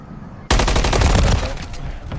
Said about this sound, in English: Bro, I'm getting shot from everywhere right now.